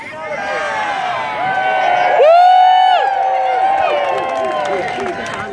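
A crowd cheers and shouts at a jousting tournament at the Minnesota Renaissance Festival, a steady roar of voices that swells in the middle of the clip, with loud voices carrying over it.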